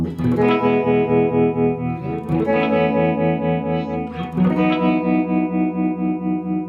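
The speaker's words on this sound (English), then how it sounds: "that sounds like one of the best tremolos I've ever heard" Sustained electric guitar chords pulsing under a wobbling, shimmering tremolo from a ring modulator effect at a low setting, loud and close, with a new chord struck every couple of seconds.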